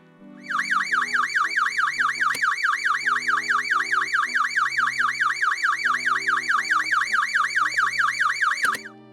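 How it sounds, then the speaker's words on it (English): An electronic buzzer alarm on a ship in the video game Stormworks, a loud warbling tone cycling rapidly and evenly for about eight seconds before cutting off, with no talk. "This goes to the buzzer, I think."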